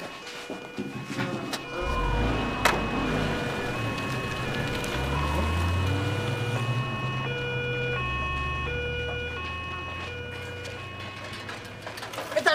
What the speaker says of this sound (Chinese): 马医生，救护车来了。